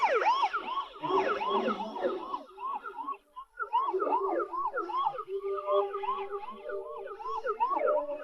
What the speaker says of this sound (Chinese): 救护车马上就到了。